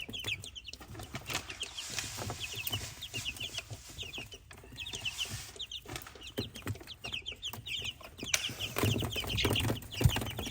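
Meat chickens cluck and chatter continuously in a coop, with many overlapping short calls at close to moderate distance and a low hum of activity underneath.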